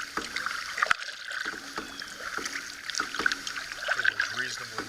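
A solo canoe paddled up a cove gives soft water trickles and paddle strokes close by, with occasional knocks on the hull and a voice speaking in the background.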